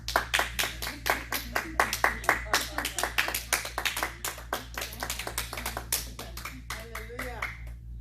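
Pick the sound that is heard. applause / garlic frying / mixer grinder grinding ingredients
applause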